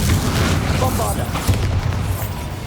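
Repeated deep booms from the Bombarda explosion spell in Hogwarts Legacy rumble through the stretch, close and loud, with overlapping bursts and game effects.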